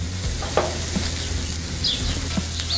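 Pork chops sizzle loudly on a 36-inch Blackstone griddle, a constant close crackling hiss with a few light scrapes and taps from a spatula.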